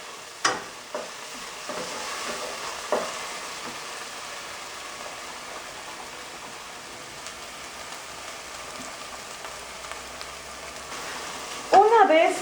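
Onion frying in a pot with salt, cumin and pepper, stirred now and then, giving a soft, steady sizzle with faint scraping and a few light knocks, louder briefly at the end.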